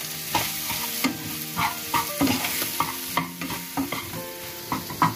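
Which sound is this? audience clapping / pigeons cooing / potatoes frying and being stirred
potatoes frying and being stirred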